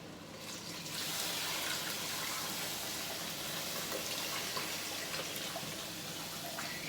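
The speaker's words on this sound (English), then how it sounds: "I'm going to pour this hot water in here." Hot water pours steadily from a pot into a bowl on a kitchen stove, a continuous close rushing splash that starts up quickly and holds its level throughout.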